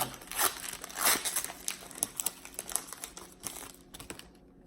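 Trading card pack torn open by hand, a run of close crinkling foil-wrapper rips and crackles that fade to quiet at the end.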